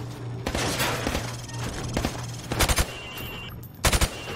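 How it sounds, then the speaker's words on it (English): Rapid bursts of rifle gunfire from a Call of Duty Modern Warfare Remastered training range, shooting pop-up targets through plywood; loud repeated shots in clusters over a steady background hum, no talking. "I want you to shoot the targets through the wood."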